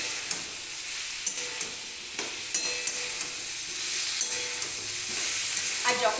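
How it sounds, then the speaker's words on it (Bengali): Soybean curry with potato and pointed gourd sautéing over low to medium gas, giving a continuous bright sizzle broken by repeated clicks and scrapes of a spatula stirring the pan. "এবার সুন্দর মতন আস্তে ধীরে লো টু মিডিয়াম গ্যাসটাকে রেখে ভালো মতন কষিয়ে নেবেন।"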